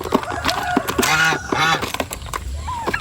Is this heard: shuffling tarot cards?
no